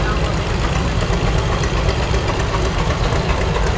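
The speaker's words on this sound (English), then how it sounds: "336 cubic inches in 2 cylinders. That's a good sized tractor." A large two-cylinder farm tractor engine of 336 cubic inches runs steadily and loudly close by, a dense continuous chugging drone with no break.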